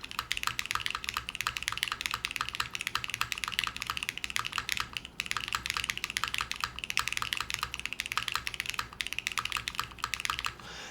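Continuous fast typing on a gasket-mounted mechanical keyboard with silicone gasket socks, crisp clacky keystrokes with occasional deeper thuddy spacebar presses, close and steady throughout with no talking.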